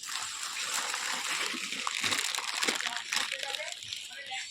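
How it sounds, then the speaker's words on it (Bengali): Heavy rain pours onto a tin roof at night, a dense, steady hiss and patter that never lets up, with voices faintly audible beneath it. "আর বাইরে অঝরে বৃষ্টি নেমেছে"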